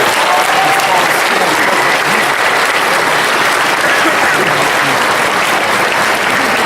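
A large convention audience at a Batman: Arkham Origins panel applauds loudly and continuously, a dense, steady wash of clapping that fills the whole stretch without a break.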